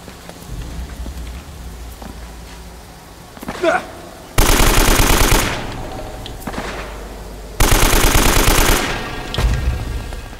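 Video game weapon gunfire in two loud sustained bursts, each about a second long, over quieter game ambience, with a short sharp sound just before the first burst.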